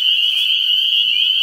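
Loud, dense chorus of tree frogs calling at night, a steady high-pitched trilling drone that fills the whole stretch without pause, with faint human voices underneath.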